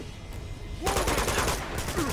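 Gunfire in the video game Uncharted 2, a quiet lead-in, then a sudden dense burst of rapid automatic shots that carries on loud and continuous to the end.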